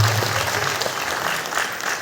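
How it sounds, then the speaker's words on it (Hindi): An audience in a town hall gives loud, continuous applause during a community event, with thick, even clapping that fades slightly toward the end. "फिर से एक बार जोरदार तालियां"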